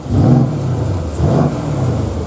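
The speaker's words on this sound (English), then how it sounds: "You can hear the engine note change, so there it is on balance and there it is on powerful" A Mercedes C63 AMG 4.0L V8 idles and revs in smooth swells, its deep rumbling exhaust note rising and falling twice, close and fairly loud, with no talking.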